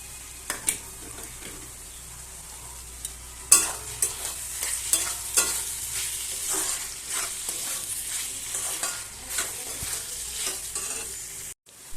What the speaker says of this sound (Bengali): এর মধ্যে এবারে ভাজা আলুগুলো দিয়ে দেবো